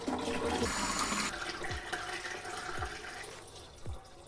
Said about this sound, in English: Now that this part is done, we move on to refilling the water tank again.